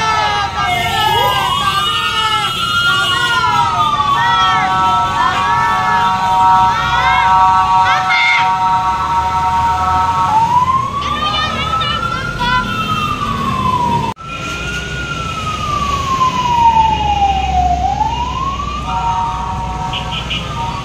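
Fire truck sirens wail in rising and falling sweeps as the engines pass through city traffic on the way to a fire in the Philippines, loud and close, with a horn blast and shouting voices mixed in.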